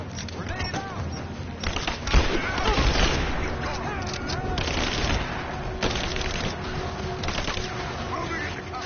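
Dense video-game gunfire with a grenade thrown during a firefight, the shots rattling and layered into a continuous loud din, with a heavier thump near the middle.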